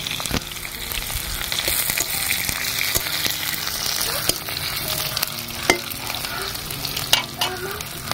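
Onions frying and sizzling in a pan on a home stove, a steady loud hiss with occasional stirring clinks and scrapes throughout, no talking.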